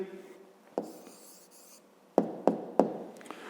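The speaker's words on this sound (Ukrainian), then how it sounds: "Пишемо відповідь тоді." Pen writing an answer by hand on paper during a fifth-grade math exercise, quiet scratchy strokes broken by several sharp taps as the pen meets the page.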